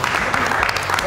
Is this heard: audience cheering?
yes